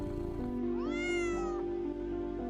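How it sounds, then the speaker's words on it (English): A cat gives one clear, rising-and-falling meow at an animal shelter, sounding close and loud over a steady background hum. "The cacophony of meows and eager paws reaching through cage bars filled the narrow hallway"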